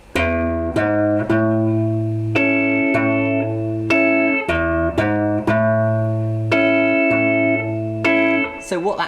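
Electric guitar strums the opening chord section of a song, a loud, clear rhythmic pattern of repeated chords with effects, played alone.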